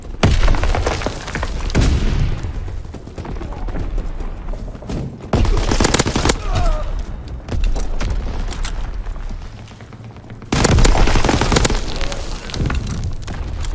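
Gunfire and explosive blasts in a Call of Duty WW2 team deathmatch, loud bursts of shots with booming impacts and splintering debris, arriving in clustered waves separated by brief lulls.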